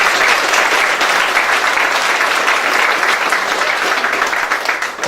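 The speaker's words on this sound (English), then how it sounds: "I want to ask a round of applause for everybody that has worked and made this possible" A crowd at an event in Aruba breaks into loud, sustained applause, thick and continuous clapping from many hands that fills the space and starts to thin slightly at the very end.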